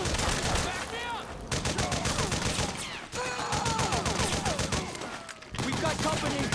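Rapid automatic gunfire and scattered shots ring out in Metal Gear Solid 4 on PS3, dense and loud in bursts, with shouted voices mixed into the chaotic battle.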